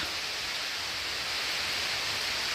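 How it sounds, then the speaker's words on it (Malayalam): Rain falls in a steady, even hiss that holds without a break for a few seconds. It sounds soft and fairly distant, and no one speaks. "വീണ്ടും മഴ തുടങ്ങിയിട്ടാ"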